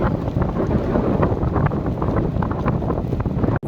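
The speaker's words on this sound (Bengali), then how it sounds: "হাওয়া প্রচুর, বৃষ্টি প্রচুর।" Strong wind roars steadily across the microphone at an outdoor pre-wedding shoot location at Baguran Jalpai, with heavy rain mixed into a loud, dense, continuous rush that cuts off abruptly at the end.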